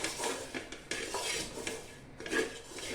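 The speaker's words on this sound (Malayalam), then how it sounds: "അപ്പോൾ അതുകൊണ്ട് അല്പം മല്ലിയില ഒന്നുകൂടി ഇളക്കുക" A spoon stirs coriander leaves into biryani in a metal pot, making close scraping and clinking strokes in a quick, uneven rhythm. No one speaks.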